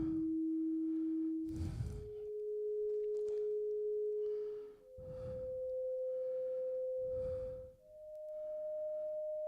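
A variable star rendered as sound plays a series of pure, steady sine tones, each held for a couple of seconds and stepping slightly higher in pitch, with soft breathy bursts between them.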